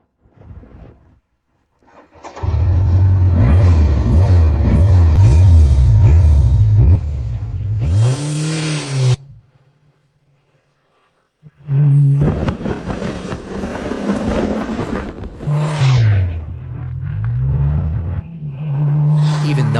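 A BMW K1200 motorcycle, left untouched for almost ten years and just restored, runs with a loud steady engine rumble that cuts out into a short silence, then comes back strongly and keeps running to the end, with no talk over it.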